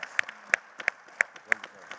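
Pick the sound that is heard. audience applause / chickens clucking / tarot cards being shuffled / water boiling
audience applause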